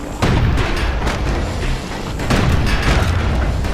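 In the video game Bastion, guns on a security skiff fire booming shots, several heavy blasts in quick succession, loud and close over a rumbling backdrop.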